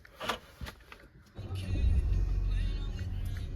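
A Mercedes-Benz A200 A-Class AMG Line with a 1.3 engine and 7G-DCT gearbox starting up, a few faint clicks then a low engine rumble that rises and settles into a steady idle, with a voice talking over it.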